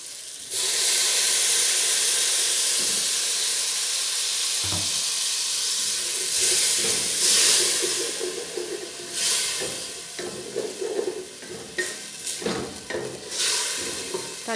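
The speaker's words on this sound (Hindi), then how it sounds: "इसलिए तकरीबन मैंने हाफ़ कप जो है व्यूअर्स मैंने इसमें पानी का ऐड किया है।" About half a cup of water hits browned onions with ginger-garlic paste in a hot pan, erupting into loud steamy sizzling and hissing that then settles into bubbling frying with stirring, during a trotter (paye) recipe; no voices.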